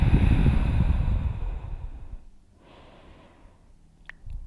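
A pregnant woman's long, strong exhalation during prenatal Ashtanga yoga, close and breathy, easing off into a quieter inhale and then a soft second breath.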